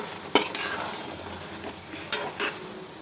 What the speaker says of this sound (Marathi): त्यामुळे आपल्याला हा सतत हलवत राहायचा आहे